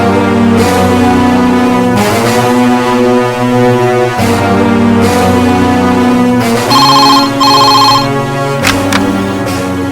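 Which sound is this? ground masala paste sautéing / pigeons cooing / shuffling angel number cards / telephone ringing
telephone ringing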